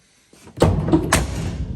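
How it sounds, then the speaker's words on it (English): A door with a lockable round key shutting up close during vehicle assembly work, a single solid thud with a short rattle, then a brief clunk of the latch settling. "Shut the door."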